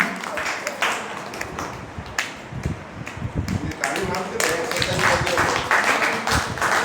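Applause from an audience at a writers' workshop event, a dense continuous patter of many hands clapping throughout, with voices mixed into the crowd noise.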